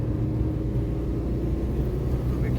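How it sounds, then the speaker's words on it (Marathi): A car engine rumbles steadily on a winding mountain ghat road, a continuous low drone with no talk. "समोरून बघा आता गाडी येते."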